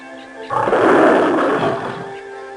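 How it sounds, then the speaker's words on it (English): A Siberian tiger in a Carmen Sandiego adventure game set in Mongol-era China lets out one long, loud, rumbling roar that swells and then fades, standing alone with no talk over it. "That's a Siberian tiger, one of the largest cats in the world."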